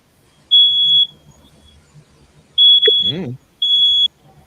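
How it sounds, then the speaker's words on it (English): A smoke alarm sounds three loud, piercing high beeps separated by pauses, with a brief murmur of a voice between the second and third beeps. "Someone's burning something upstairs."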